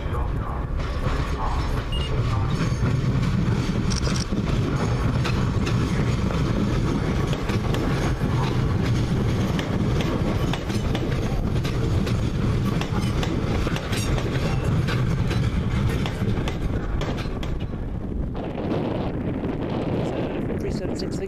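A Class 376 electric train arrives at London Bridge station with a steady rolling rumble and rail clatter, loud and close, while wind buffets the microphone and a voice speaks over it.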